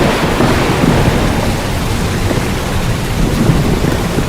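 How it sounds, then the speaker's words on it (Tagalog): A thunder and rain sound effect in a radio advertisement: steady heavy rainfall with deep rumbling thunder, loud and continuous throughout with no voices. "Ang lakas ng kidlat at kulob, umulan na."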